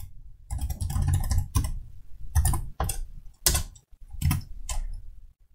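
Someone types on a computer keyboard while writing a Python script, with bursts of close, crisp key clicks separated by short pauses and quick clusters of strokes.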